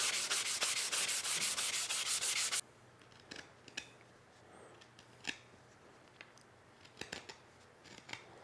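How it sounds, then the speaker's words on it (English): A wooden shelf is sanded by hand, with about two and a half seconds of fast, rhythmic, close scratching strokes. Scattered light knocks and handling clicks follow in quiet surroundings. "I'm going to be sanding it down to get rid of the pencil marks"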